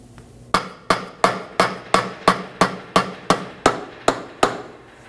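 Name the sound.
rubber mallet striking Chevrolet Trax drive shaft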